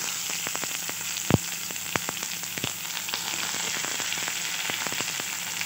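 Garlic and onion fry in a pan with a steady, close sizzle, broken by a few sharp pops and crackles, including one louder crack early on.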